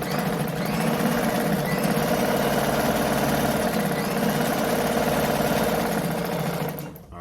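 A Brother model 345 sewing machine runs steadily for several seconds sewing a straight stitch, a loud, even mechanical whir with a rapid rhythmic chatter, winding down at the very end.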